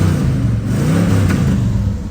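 A 1973 Chevrolet Camaro engine revs loudly and close, a deep throaty roar rising and holding with rumbling low pulses, steady throughout with no voices.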